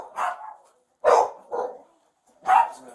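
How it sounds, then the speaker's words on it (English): A police dog barks in three or four loud, close, gruff bursts with short silent gaps, brought in by officers at a standoff outside a house. "Jay, we are going to bring a dog that will bite you"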